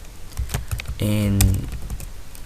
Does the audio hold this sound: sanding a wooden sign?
no